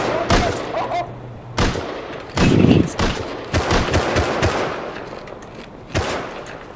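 Gunfire in the survival video game Rust, sharp irregular bursts of automatic shots and single cracks, close and loud, spread across several seconds with faint voices in between.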